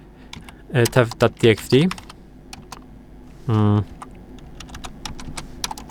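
Keys clatter on a computer keyboard in quick irregular clicks throughout, close and fairly light, while someone speaks briefly in two short bursts.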